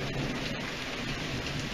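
A thunderstorm with heavy rain: a dense, constant downpour roars close by with a low thunder rumble underneath, and no voices.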